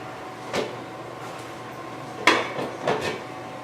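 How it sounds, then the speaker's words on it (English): Three cups of chopped celery tumble into a soup pot on a home kitchen stove, making three short clattering thumps spread over a few seconds, the last two louder and closer together. "3 cups of chopped celery going in"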